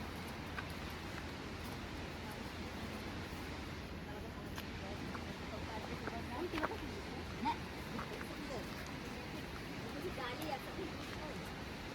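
Steady, broad rush of a waterfall, continuous and even throughout, with faint scattered sounds of activity on top.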